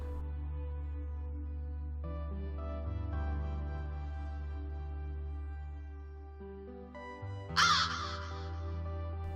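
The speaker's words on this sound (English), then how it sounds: "Here, we'll get scared away by some birds." Crows cawing and a sudden burst of flapping as birds are scared off in the video game One Eyed Kutkh, set over a sustained musical drone, with a sharp noisy flurry near the end.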